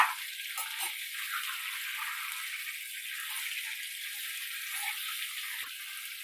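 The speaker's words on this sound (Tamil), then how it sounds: "கத்திரிக்காய் போட்டுட்டு நல்லா கிளறி விட்டுருங்க." Brinjal fries in a pan while being stirred, a steady hissing sizzle at moderate loudness with light clinks from the stirring, no talking.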